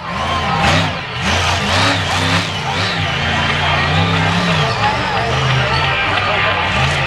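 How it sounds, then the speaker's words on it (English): The Advanced Auto Parts Grinder monster truck revs its engine hard through a freestyle run, the loud motor rising and falling in repeated surges over a steady crowd roar. "Seasock and the Advanced Auto Parts Grinder going special places for height there"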